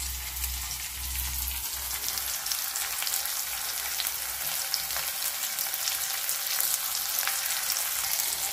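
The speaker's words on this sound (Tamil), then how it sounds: "இதை நல்லா வதக்கிக்கலாம்." Egg fry with chilli and salt being sautéed in a pan, giving a steady, fairly loud sizzle that runs the whole time with faint stirring crackles and no voices.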